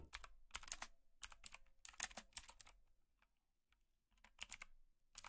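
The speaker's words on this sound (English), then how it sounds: "If I had this keyboard, I would actually enjoy typing 13-page essays." Quiet, close clicks from a computer keyboard come in quick bursts of typing, broken by brief pauses, with no voices.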